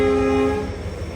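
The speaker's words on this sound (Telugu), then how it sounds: "ఆ బండి బయలుదేరిపోతుంది." The Delhi–Bathinda train sets off with a loud, steady horn-like tone that fades within half a second into a low, continuous rail rumble.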